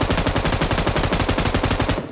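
A video-game machine gun fires a sustained burst to finish off a downed enemy, a loud, rapid, evenly spaced run of shots that cuts off abruptly at the end.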